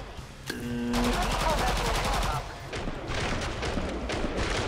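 Rapid gunfire in Killing Floor 2, a fast rattling burst of machine-gun shots close and loud, followed by further bursts with shouting players talking over the shooting.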